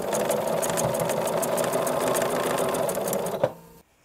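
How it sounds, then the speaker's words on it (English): A sewing machine stitches steadily through a thick denim seam, with a fast, even mechanical whir and rattle close to the microphone that stops abruptly near the end. "The machine will just stitch over that heavy seam with no trouble at all."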